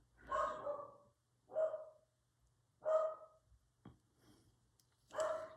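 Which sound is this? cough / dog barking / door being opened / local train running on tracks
dog barking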